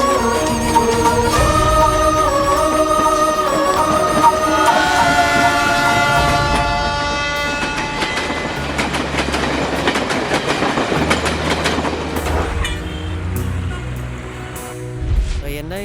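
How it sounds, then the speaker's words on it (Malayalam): An Indian passenger express pulls into a railway platform, a loud continuous rumble with steady clickety-clack of wheels, a horn blast early on, and the roar of passing carriages building and then easing as the train slows, with a station announcement voice mixed in. "യാത്രക്കാരുടെ ശ്രദ്ധയ്ക്ക്, മേട്ടുപ്പാളയത്തിൽ നിന്ന് ചെന്നൈയിലേക്കുള്ള ദേവഗിരി എക്സ്പ്രസ് കുറച്ച് സമയത്തിനുള്ളിൽ പ്ലാറ്റ്ഫോം നമ്പർ 2-ൽ എത്തിച്ചേരുമെന്ന് പ്രതീക്ഷിക്കുന്നു."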